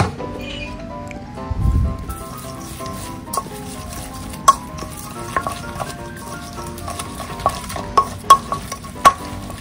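A spoon stirs shredded cheese and cornstarch in a bowl, giving close, irregular scraping with sharp clicks against the sides that grow more frequent toward the end.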